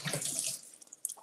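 Tap water runs over a head of cabbage being rinsed in a kitchen sink, a brief close splashing hiss that breaks into uneven spatters as the leaves move under the stream.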